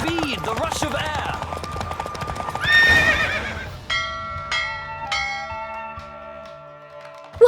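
A galloping horse neighs in The Witcher 3, hooves drumming under a voice, then ringing bell-like chimes take over as the hoofbeats fade.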